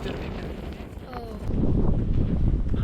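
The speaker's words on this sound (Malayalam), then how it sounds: "നല്ല കാറ്റാണ് ഇവിടെ, അതും നോൺ സ്റ്റോപ്പായിട്ട് കാറ്റുണ്ട്." Strong, non-stop wind on the Sandakphu mountain trek buffets the microphone as a low rumbling roar, rising and staying loud through the second half.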